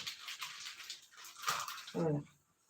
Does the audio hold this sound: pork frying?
no